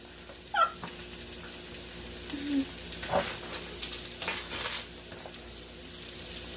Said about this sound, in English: So now for the chickpeas, I'm just going to mash them a little.